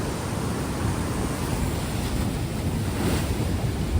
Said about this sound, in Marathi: समुद्र बघा किती खवळला आहे